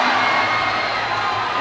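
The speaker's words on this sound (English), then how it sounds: "The crowd really getting behind Yodwicha" A Muay Thai crowd roars and cheers steadily for the underdog fighter Yodwicha in the fifth round, a dense, loud wall of shouting voices with no break.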